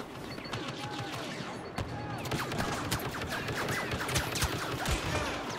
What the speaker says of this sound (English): Come on, turret, light him up, light him up!